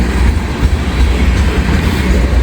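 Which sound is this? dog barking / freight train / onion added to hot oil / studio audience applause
freight train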